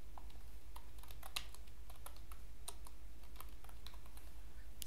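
Typing an SQL SELECT query on a computer keyboard: quick, faint, irregular key clicks tapping close by over a low steady hum, with no voice.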